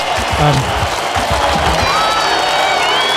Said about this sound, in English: So just a big round of applause for everyone here before we go into listening to the presentations.